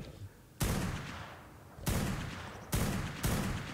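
Gunfire in the ARK Survival Evolved video game: four dense, noisy bursts of shooting in quick succession, each sustained for a moment before the next, moderately loud.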